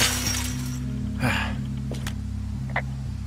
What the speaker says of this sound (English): I smashed open the gate.